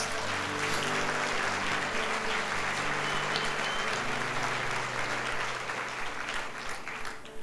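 Congregation in a church breaking into sustained applause for Jesus during a Sunday service, dense steady clapping from many hands over a low sustained musical drone, continuing throughout without any voice.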